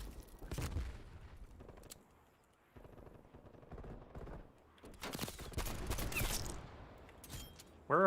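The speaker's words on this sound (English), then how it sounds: "Where are all those dirty bullets coming from?" Bursts of automatic gunfire in Black Ops Cold War, intermittent rapid volleys with short quiet gaps and a loud flurry toward the middle, heard up close.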